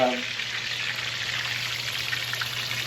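Whole red snapper frying in hot oil, a steady, moderately quiet sizzle and crackle throughout with a faint low hum underneath.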